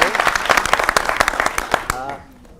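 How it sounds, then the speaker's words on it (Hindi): Loud applause from a crowd at a question session, dense clapping for about two seconds that then breaks off abruptly, with a voice speaking over it as it fades. "थैंक यू, जोरदार तालियां"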